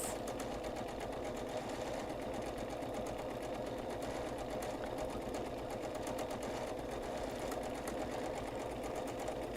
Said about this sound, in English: I'm going to line up my fabric, my foot, and I'm going to stitch